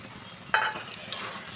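Grated coconut stirred into frying taro greens (kochu shak) in a pan, a soft scraping stir with a brief sizzle burst and a couple of light clinks, close and unaccompanied by voices.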